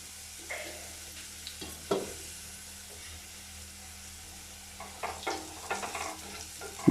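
Potato pieces frying in a pan give a low, quiet sizzle with occasional scrapes and clinks of stirring near the start and near the end. No voices are heard.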